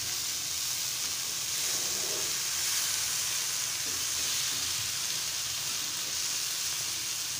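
Bombil fish stir-fried slowly in a pan, Malvani style, giving a steady bright sizzle that holds evenly throughout with soft scraping stirs underneath and no talking.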